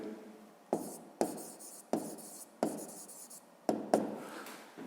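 Handwriting with a pen or chalk during a maths lesson: a series of about seven close, scratchy strokes, each starting sharply and tapering off, with short gaps in between.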